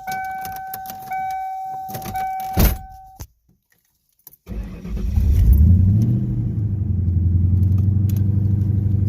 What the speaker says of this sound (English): You'll put your ignition key in and turn the ignition on and start the vehicle.